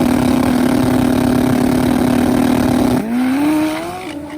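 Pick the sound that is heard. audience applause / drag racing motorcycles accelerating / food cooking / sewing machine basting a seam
drag racing motorcycles accelerating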